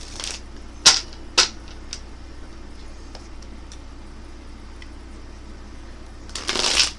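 A deck of tarot cards is shuffled at a table, with two sharp riffling snaps early on and a longer rustling burst at the end, separated by a quiet stretch of faint handling.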